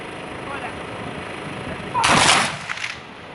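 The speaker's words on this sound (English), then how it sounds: "let's see if they can do another perfect volley" Civil War reenactors in steel blue jackets fire a sharp black powder musket volley outdoors, a single loud crack with a rumbling tail that fades after about a second over faint background murmur.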